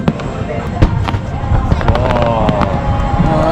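Fireworks crackling and popping over a crowd near Mount Fuji in Japan, with sharp bursts scattered through a dense, loud wash of noise while people talk and exclaim nearby.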